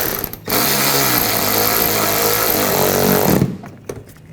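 A power tool drives a screw into the front bumper impact absorber area of a 2014-2020 Nissan Rogue, one loud continuous whirring burst of about three seconds that starts abruptly and then winds down, close and alone.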